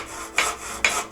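Wood being sawn while craftsmen build a temporary tent and storehouse in an old-world work setting, with two rasping strokes in quick succession that sound close and moderately loud, without voices.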